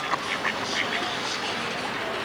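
A duck quacking beside Lake Zurich in Switzerland, a few short nasal calls in the first second standing out over steady outdoor background noise, with a voice speaking faintly.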